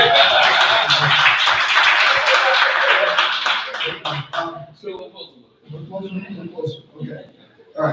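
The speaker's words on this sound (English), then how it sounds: "Another round of applause for our newcomer." Audience clapping to welcome a newcomer at a coaching session, a dense burst of applause for about four seconds that breaks off into scattered claps and talking.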